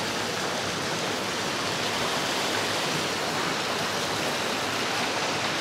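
A river, Ilog Bulbok in Alfonso, Cavite, rushes over rocks and through small natural pools, making a steady, broadband watery roar that holds constant throughout with no voices.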